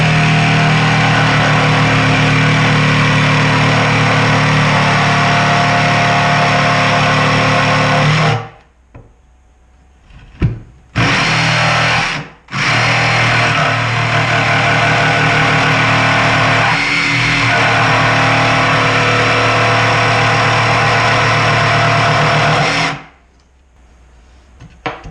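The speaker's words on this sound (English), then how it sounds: "we're going to go ahead and use the saw to cut the rest of the entrance hole out" A powered saw cutting an entrance hole in a wooden Layens beehive, a loud, harsh, steady whine that runs for long stretches, stops briefly twice and cuts out near the end.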